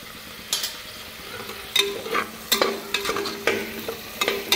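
Spice mixture with turmeric and black masala being stirred and sautéed in a pan, close scraping strokes of the spoon recurring irregularly over a soft sizzle.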